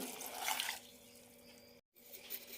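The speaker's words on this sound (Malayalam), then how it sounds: "രണ്ട് കപ്പ് വെള്ളം ഒഴിക്കാം" Water pours into a cooking pot holding slit green chillies, garlic and small shallots for a sardine curry, a brief broadband rush followed by quieter trickling, then a short break and a little more splashing, close and alone.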